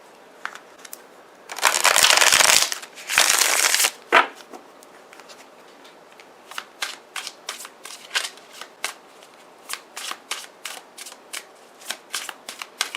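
Tarot cards being shuffled, with two loud, dense riffling bursts early on, then a long run of quick, crisp single card snaps and slides as cards are drawn and laid down one after another.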